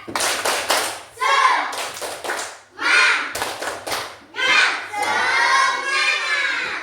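A class of children performs a rhythmic spirit clap in a classroom, bursts of unison hand claps in short patterned groups separated by brief pauses, with young voices chanting along between the claps.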